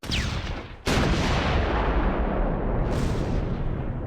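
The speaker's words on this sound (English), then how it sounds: "The Stuart is immobilised and returns fire." A tank gun firing in the Close Combat 4 Battle of the Bulge game as an immobilised Stuart tank shoots back: a heavy rumble, then one sharp loud blast at about one second that rolls on in a long, dense roar.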